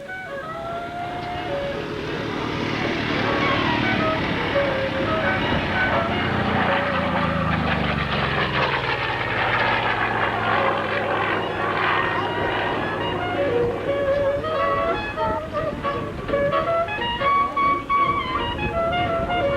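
Aircraft making a high-speed pass at a 1993 airshow in Chatham, Ontario, painted in the colors of Lieutenant Gray's plane: a loud engine roar swelling and sweeping in pitch as it goes by, then lingering, with people talking over the crowd noise.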